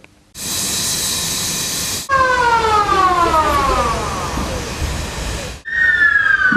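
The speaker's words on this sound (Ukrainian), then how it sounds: "Клуби диму, різкий запах та виття сирен" Emergency sirens wail during a chemical threat response drill in a city, several overlapping rising and falling tones sounding loud and close. A steady steam-like hiss runs beneath them, with a brief break before a higher siren takes over.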